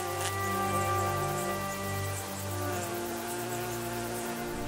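A steady, droning buzz of bees with layered humming tones, continuous and fairly close, with no voices over it.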